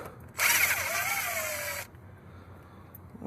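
Power tool backing out spark plug cover bolts on a Toyota Supra with a 2JZ engine, one loud, close, high whine of about a second and a half whose pitch dips and steadies before stopping abruptly.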